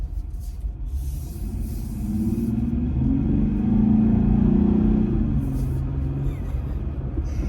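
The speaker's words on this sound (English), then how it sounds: "it's just amazing to me that I'm getting that kind of sound out of a cold air intake on a V6 nonetheless" Jeep Gladiator V6 with an Airaid cold air intake, a deep engine rumble that swells into a sustained rev, then eases off, loud and close with no talk.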